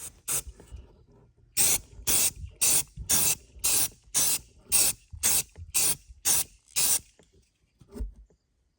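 An aerosol spray paint can hisses in a series of about eleven short, even bursts with brief pauses between them, close and clear, spraying electrical outlets.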